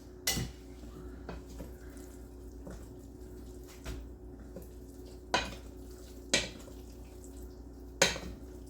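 Scattered clinks and soft scrapes of a utensil in a bowl of seafood dressing as shrimp are dropped in, with several sharp taps spread out over a quiet background hum.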